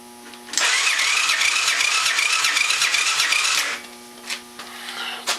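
A four-wheeler ATV with no battery installed cranks over for about three seconds, a loud, steady, rhythmic whirring that stops abruptly, followed by a few faint clicks and rattles.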